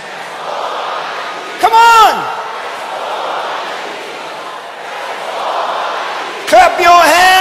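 A church congregation shouts in a sustained, roaring crowd swell that rises and falls. A voice yells loudly over it twice.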